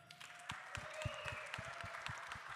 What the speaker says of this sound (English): let's say a great round of applause for not only somebody that served